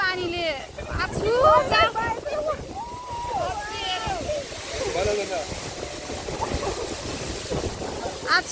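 A waterfall in New Zealand rushes and sprays in a steady broadband roar, with people close by talking and exclaiming loudly over it throughout.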